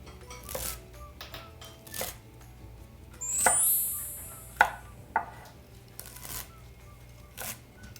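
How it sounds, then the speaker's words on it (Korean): A knife cuts hijiki seaweed into bite-size pieces on a board, with separate sharp thuds spaced about a second apart and a brief squeak between them, close and fairly quiet. "바로 먹기 좋은 크기로 이렇게 썰어 주세요."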